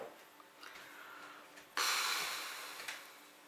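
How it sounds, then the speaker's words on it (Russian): Snoring at home, heard from behind a door: soft, muffled breaths, then one louder snorting snore that slowly fades. "Из двери слышен мирный храп"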